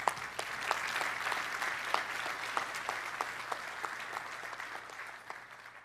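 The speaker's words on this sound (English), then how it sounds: "So please, a round of applause for General Bob Brown." A conference audience at a military keynote breaks into sustained applause for a general, many hands clapping evenly at a moderate, slightly distant level.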